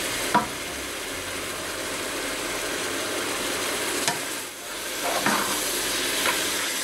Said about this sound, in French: La viande commence à prendre de la couleur.